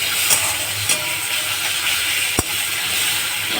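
Spice paste tipped into hot oil already holding tempering spices and a bay leaf, for a vegetarian festive dish, gives a steady close sizzle and hiss throughout, with a couple of brief sharp clicks.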